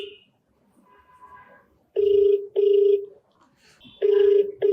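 An outgoing telephone call rings back with repeated electronic ring bursts, three loud, evenly spaced pulses following quieter faint tones and murmurs.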